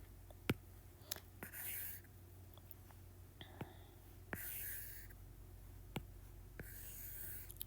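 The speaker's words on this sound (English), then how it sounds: "let me just draw it here for you" Pen strokes drawing a graph by hand on paper: soft, quiet scratching in short bursts, separated by sharp taps and clicks, close to the microphone.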